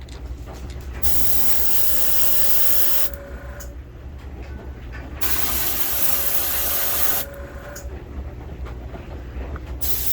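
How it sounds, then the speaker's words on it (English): Airbrush hissing steadily as it sprays light coats of paint onto a vintage Storm Wiggle Wart fishing lure, in two sustained bursts with short quieter gaps between, close and loud with no talking. "You can actually use the air from the airbrush to kind of dry it off a little bit."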